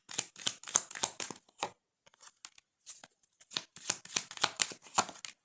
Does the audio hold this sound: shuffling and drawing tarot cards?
yes